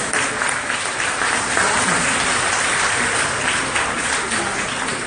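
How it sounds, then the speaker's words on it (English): Audience applause fills a room at a United Nations event welcoming Wonder Woman as an ambassador, a steady, dense clapping that stays loud and even for the whole stretch with no voices over it. "yes, a big round of applause"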